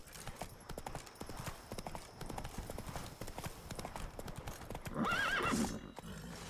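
Horse galloping in The Witcher 3, a steady rapid clip-clop of hooves running throughout, with a whinny breaking through near the end over continuous game background sound.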